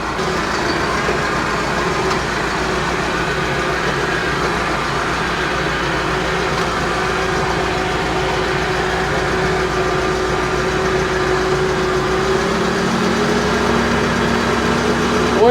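A farm vehicle's engine running while driving to hay work on a farm in Switzerland, heard from inside the cab: a constant loud droning hum with a steady low rumble and no voices.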